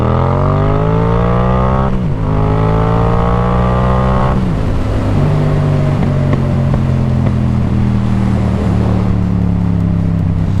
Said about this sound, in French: C'est la reprise de la MT-07 même en étant bridée.